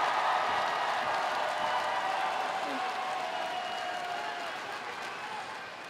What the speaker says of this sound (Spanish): Un aplauso para despedir en este reto a Juana.